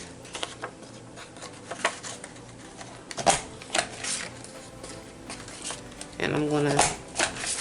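A small paper punch cutting shapes from scrap white paper, with several crisp clicks and crunches scattered through, one louder burst near the end, under someone talking.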